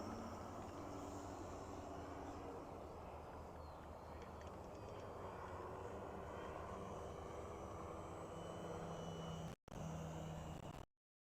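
A Precision Aerobatics Katana 60 RC aerobatic airplane flies low and close with a sustained droning engine buzz that holds steady throughout before cutting off abruptly, with no talking.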